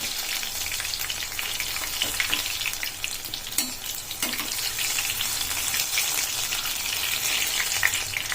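Bajji chilli fritters in batter fry in hot oil over medium heat, giving a steady close sizzle and crackle throughout, with a couple of soft knocks from stirring.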